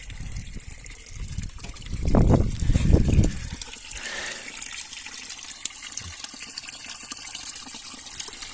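Icy spring water runs steadily from a pipe, a noisy continuous flow with a louder splashing surge early on, heard up close.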